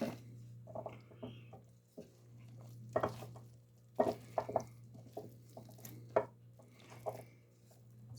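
Homemade bread dough is mixed by hand, producing irregular, quiet squishy squelches and soft slaps in bursts over a steady low background hum.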